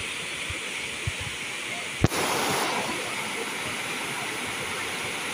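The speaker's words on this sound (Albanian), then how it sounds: "Shiko se sa është zhurma e ujit." A waterfall seen on an autumn lake walk gives a steady, even rush of falling water from moderately close, broken only by one sharp click partway through.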